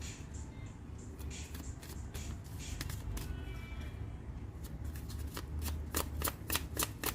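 Chakra cards are shuffled by hand for a tarot reading, giving a long run of close, crisp riffling and snapping with sharp card flicks that grow louder and more distinct toward the end, with no speech.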